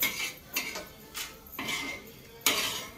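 Roasted lentils scraped and scooped out of a pan with a metal spoon, giving a few separate bursts of dry scraping and clinking against the metal, close and fairly quiet.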